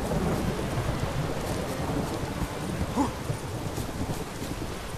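Rain and thunder in the video game The Witcher 3 Wild Hunt: a steady, dense downpour with a low rumble of thunder swelling briefly midway, with no talking.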